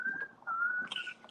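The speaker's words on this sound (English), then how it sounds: "Who's whistling?" A single person whistling a wavering tune in bursts, with brief pauses between phrases, fairly close and clear.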